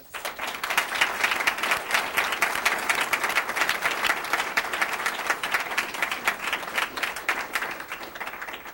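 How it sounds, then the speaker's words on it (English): An audience at a school board meeting applauds scholarship recipients, with dense, steady clapping from a sizable crowd that holds for several seconds and then tapers off. "A round of applause."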